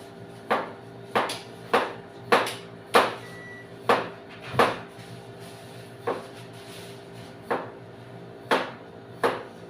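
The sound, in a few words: chopping leafy greens with a knife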